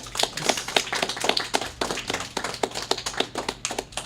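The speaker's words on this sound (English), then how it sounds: "That's applause." Applause in the Super Meat Boy video game: a steady run of crisp, rapid hand claps, moderately loud and fairly close, with no voices over it.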